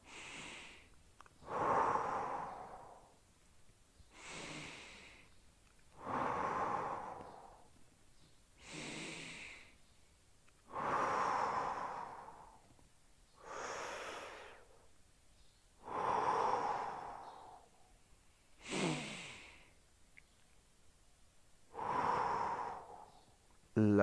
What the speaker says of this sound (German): Und wir atmen hier 5-mal.